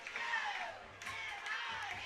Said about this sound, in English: They're still standing, clapping, ringing the bells.